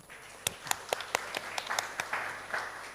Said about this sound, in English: give applause to Unisma first